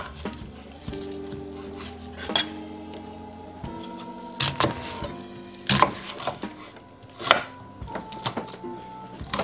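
Knife chopping ingredients for pineapple ketchup on a wooden board, with steady close rhythmic thuds and occasional sharper clinks of utensils, no talking.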